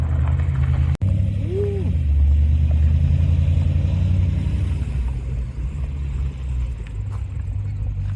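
A modified Chevrolet Camaro engine tuned to over 500 horsepower idles with a low, steady rumble close by, a sharp click near the start and a brief squeal soon after.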